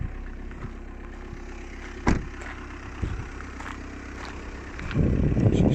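A 2013 Audi Q3 S-Line Quattro engine idles with a steady low rumble, a door-like thump partway through, and the engine swelling louder near the end.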